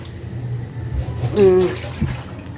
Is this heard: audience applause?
no